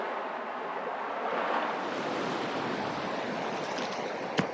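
A big river rushes past a rocky ledge, a steady broad wash of flowing water heard up close and continuous, with a brief sharp knock near the end.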